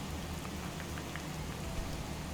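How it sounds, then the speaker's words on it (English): Steady rain in the Skyrim video game, a dense even hiss of falling drops that carries on without a break at low volume. "Let me know if you can't hear me over the rain."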